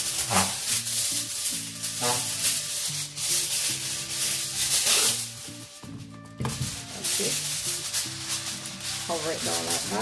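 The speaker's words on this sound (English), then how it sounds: "I'm going to cover this with some foil, some aluminum foil" Aluminium foil crinkles and rubs in repeated scrunching bursts as it is pressed over a pan of jerk pork belly before baking, close and fairly quiet with a voice speaking in between.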